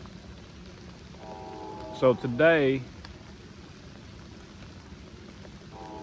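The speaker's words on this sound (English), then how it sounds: "while it's pouring the rain in this Appalachian Vietnam jungle" Heavy rain pours steadily through an Appalachian forest, a constant wash of hiss that runs throughout while someone speaks briefly and close in the middle.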